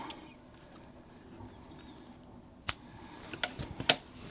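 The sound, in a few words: scissors cutting crochet yarn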